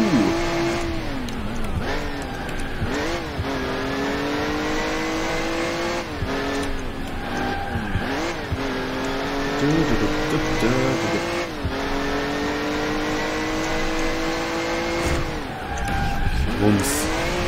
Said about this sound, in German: ich hoffe, der Motor ist nicht zu laut.